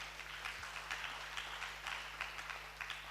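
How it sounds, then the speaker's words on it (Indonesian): Applause from the audience at a Madihin storytelling contest, a steady, moderately faint patter of many hands clapping at once, heard alone without any talking for a few seconds. "Kita kasih tepuk tangan semua"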